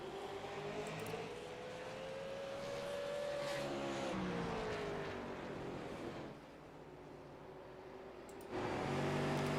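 Race cars on a racetrack drone past with a rising and falling engine whine, fairly distant, fading briefly before another car's roar swells in near the end.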